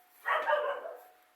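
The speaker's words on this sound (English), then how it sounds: "and that's my dog barking." A pet dog barks once somewhere outside, a short, muffled yelp heard at a distance and moderately loud against a quiet background.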